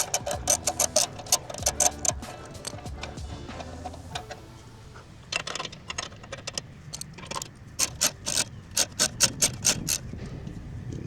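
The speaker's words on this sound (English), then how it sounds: "Take our 10mm for our lower radiator support bolts." A 10mm ratchet works on the lower radiator support bolts of a Ford Focus ST, giving bursts of rapid, close clicking that start and stop over several seconds, with short sharp ticks between them.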